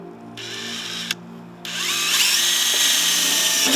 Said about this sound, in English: we're going to take an 1/8 inch drill bit and we're just going to start some pilot holes here